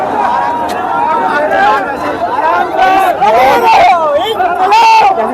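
A dense protest crowd at Jantar Mantar, many voices shouting and chanting together in a loud, continuous babble, with individual cries rising above the mass of sound.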